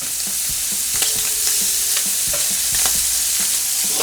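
Seafood sizzling in a pan with Cajun seasoning, a loud continuous frying hiss broken by scattered crackles and utensil scrapes as the pieces are flipped, with no voices.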